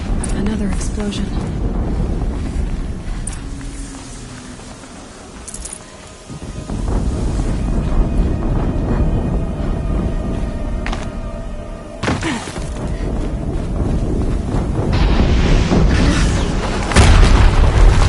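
Explosions in the video game Horizon Zero Dawn boom and rumble loudly, with dense crashing debris and sharp thuds layered into a continuous roar of game audio.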